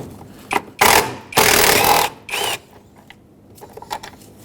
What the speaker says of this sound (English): Let's remove that bolt.